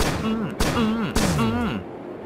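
Gun firing in the Starbound video game, three sharp blasts in quick succession, each followed by a falling tonal whine, loud and close with no talking.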